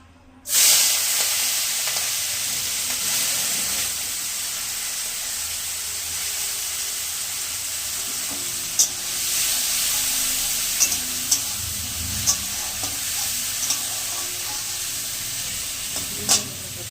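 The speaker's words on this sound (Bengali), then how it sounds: "মাছগুলো ভাজা হয়ে গেছে, তুলে নেব" Small shell-on prawns fry in hot oil in a wok, a loud, steady hiss that starts abruptly and continues throughout, with a few light stirring clicks near the end and no talking.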